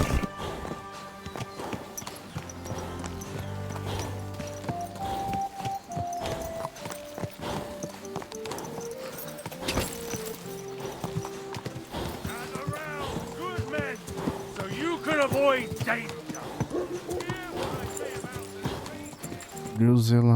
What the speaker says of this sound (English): O cavalo, você entrou aqui por quê, cavalo?